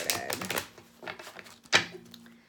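Tarot cards get one quick shuffle, giving a few close, crisp riffling and slapping bursts with short gaps between them.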